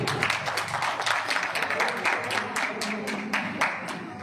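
A crowd at a Diwali lucky draw in an electronics showroom claps steadily, a dense patter of many hands at moderate level, with no voice over it.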